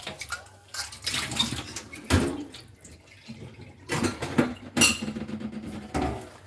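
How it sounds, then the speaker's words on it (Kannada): Dishes and pots being washed by hand under running tap water, with bursts of splashing and clattering cookware that come and go, close and fairly loud, with no talking. "ಸೌಂಡ್ ಬರ್ತದ ಅಂತ ನಿಮಗೆ ಪಾತ್ರೆ ತೊಳೆದು"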